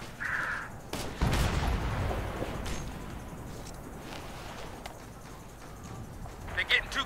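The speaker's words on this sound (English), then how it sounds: "We're getting shot at!" Gunfire in the military shooter game Operation Flashpoint: Red River, with bursts of shots and loud impacts around a firefight while soldiers shout over the action.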